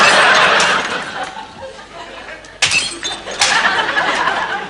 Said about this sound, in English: Why are you smashing up saucers, Rick?